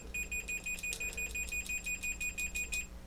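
A Fluke multimeter's continuity test gives a rapid series of high-pitched electronic beeps, pulsing steadily over a low hum, fairly quiet and evenly spaced.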